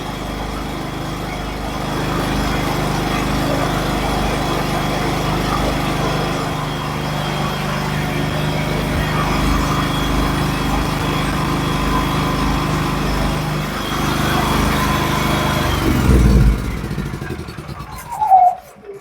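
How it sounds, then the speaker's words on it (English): A Champion 9000 open frame tri-fuel inverter generator starting and running, a steady close engine drone that holds for about fifteen seconds, then winds down and shuts off. "that's going to conclude the unboxing and the startup of the Champion open frame inverter"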